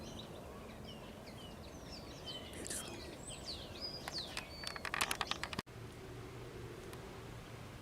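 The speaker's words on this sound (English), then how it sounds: "All I can hear now is the ocean and the birds." Birds singing and chirping by the ocean coast, scattered faint calls over a steady wash of surf, with a few brief rustles and a single spoken word near the middle.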